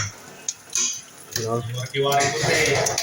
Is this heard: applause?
no